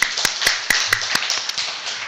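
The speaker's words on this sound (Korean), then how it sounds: "우리를 성도라 불러주신 하나님께 감사의 박수를 부릅니다" A church congregation at a Korean Sunday service claps in thanks, with sharp, close, evenly spaced claps forming a brisk rhythmic pattern over a bright hall murmur.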